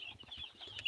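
Two-week-old chicks peeping and clucking up close in a short, busy burst of high chirps.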